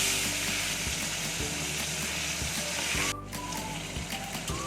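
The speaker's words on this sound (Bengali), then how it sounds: "তেলটা গরম হয়ে গেলে এর মধ্যে আমি মাছের মাথাগুলো দিয়ে ভালো মতো করে ভেজে নেব" Hilsa fish heads fry in hot mustard oil, a loud continuous sizzle close by with brief crackling bursts and a short dip midway as the pan is disturbed.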